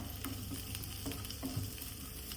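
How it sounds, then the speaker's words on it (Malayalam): Ginger and garlic fry in butter, a soft steady sizzle with faint crackles and light stirring taps, fairly quiet and close, with no speech. "ശേഷം ബട്ടർ ഇട്ട് കൊടുത്തിട്ടുണ്ട്, ജിഞ്ചർ ഗാർലിക്, ഇഞ്ചിയുണ്ട് കേട്ടോ."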